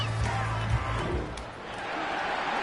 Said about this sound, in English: And the home crowd applauding. They're happy with what they've seen.